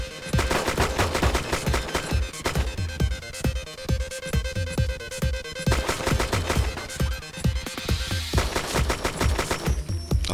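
Gunfire in the DayZ video game on the Taviana map comes in rapid, loud bursts of repeated shots, with short pauses between volleys and no talk over it.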